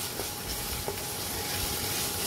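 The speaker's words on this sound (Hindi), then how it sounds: "ये देखिए हल्दी डाल के भूनेंगे" Steady sizzling of turmeric frying in hot oil for dal makhani, a constant close hiss with a couple of faint clinks.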